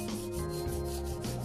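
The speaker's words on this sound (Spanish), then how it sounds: "Eso lo vamos a trabajar con una lija." Fine sandpaper, around 400 grit, rubs over a plaster face to smooth its surface, a soft continuous close scraping with no voices.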